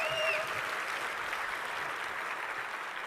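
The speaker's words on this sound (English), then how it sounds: "yes, applaud." Audience applause fills a SXSW session hall, a steady wash of many hands clapping at moderate distance, with a faint whistle near the start, then slowly easing.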